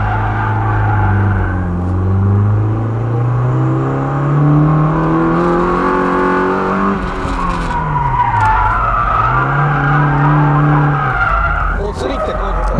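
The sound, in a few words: car drifting and skidding with e-brake and countersteer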